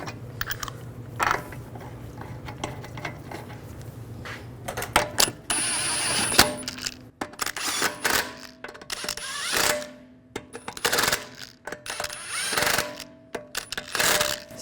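Lug bolts being snugged onto a wheel of a Volkswagen Tiguan, with irregular bursts of ratcheting clicks and metallic rattles separated by short pauses.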